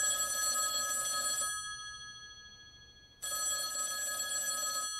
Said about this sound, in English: First, that phone over there is gonna ring.